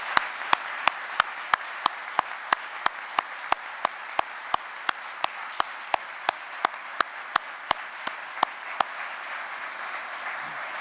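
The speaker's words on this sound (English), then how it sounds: "Please join me in giving all of these folks who have contributed so much a round of applause." A dense, even bed of clapping fills the hall at a military promotion ceremony to Major General, punctuated by sharp, regularly spaced clicks like a camera shutter firing repeatedly.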